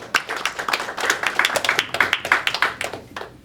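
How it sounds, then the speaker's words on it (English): A group of people clapping at a memorial service, steady continuous applause of many hands, close and fairly loud, with no voices over it. "Clap for him, clap for him."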